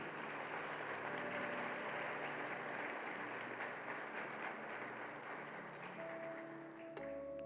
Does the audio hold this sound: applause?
yes